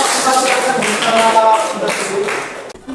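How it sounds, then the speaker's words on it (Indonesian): Classroom applause for a student group after their presentation, a few hands clapping unevenly with voices chattering over the claps. "Tepuk tangan buat kelompok 4."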